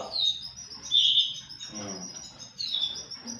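Small caged birds chirping in a livestock bird cage, a few bright high tweets and short calls in quick bursts, close and fairly faint in a quiet room.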